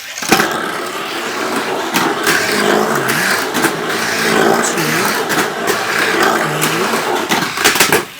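Festa Jaune orange slot car lapping a corkscrew track, a steady whirring motor drone with small pitch swoops as it laps, plus clicks and rattles near and fairly loud.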